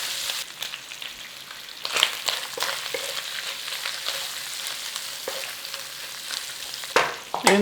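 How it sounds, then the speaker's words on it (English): Red onions saute in a single pan, a steady low sizzle with occasional louder crackles and stirring scrapes, close by with no talk. "Now start to give those a little saute, soften them up."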